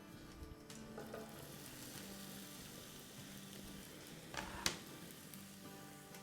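Rice and vegetables frying in a pan give a soft, steady sizzle with occasional stirring scrapes and one sharper clatter. The frying is quiet and heard alone, with no talking.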